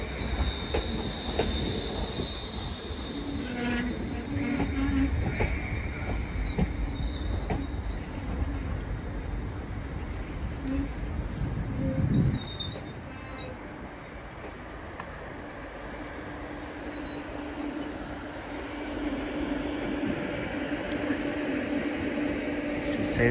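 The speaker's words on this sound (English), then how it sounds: "See this set as she departs back out for London Euston later on" A Class 350 electric multiple unit pulls out of Crewe station on the West Coast Main Line, a steady rumble of rolling wagons and faint wheel squeal running throughout, with a brief louder surge near the middle.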